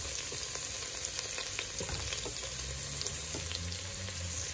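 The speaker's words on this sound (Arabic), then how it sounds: "كنزيد هاد البصله، كنخليها كتشحر مزيان هكا" Onion sautéing in two spoons of butter and a little oil in a pot for a light vegetable soup, a dense crackling sizzle with constant fine pops and faint stirring knocks, steady throughout.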